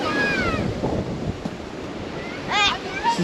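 Big surf breaking on a beach in Dziwnówek on a very windy day, a steady roar of waves under heavy wind buffeting the microphone, with children's and adults' voices calling out over it.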